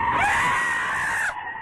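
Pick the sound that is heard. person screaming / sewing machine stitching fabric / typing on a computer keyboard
person screaming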